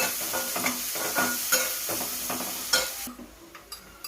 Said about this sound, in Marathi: तो कांदा टाकायचा, बारीक चिरून घेतलेत मी 2 कांदे, जरा चांगलं भाजूया